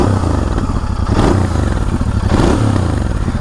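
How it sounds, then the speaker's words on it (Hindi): Exhaust note of a 2024 Royal Enfield Continental GT 650 in British Racing Green, idling close up with a loud, lumpy twin-cylinder thump and two brief blips of the throttle. "अभी इसका जो एग्जॉस्ट नोट है वो मैं आपको एक बार सुना दे रहा हूँ फिर से"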